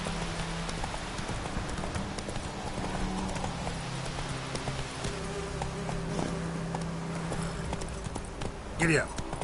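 Horse hooves from a Witcher game, a steady rapid clip-clop of galloping throughout, with a brief neigh toward the end and voices over the top.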